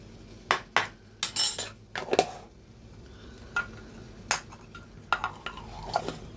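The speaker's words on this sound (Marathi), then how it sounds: "आणि हे ना चांगलं आपण असं मिक्स करून घेऊया." A spoon stirs and scrapes through a chicken marinade of yogurt, black pepper powder and ginger-garlic paste in a bowl, a handful of sharp clinks and scraping strokes spaced apart, close by with quiet gaps between.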